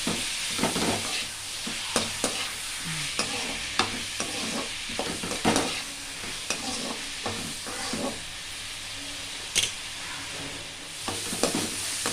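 A base for a thick tomato gravy sautés in a pan with a soft sizzling hiss, interrupted by repeated scraping and clinking strokes of a stirring spoon.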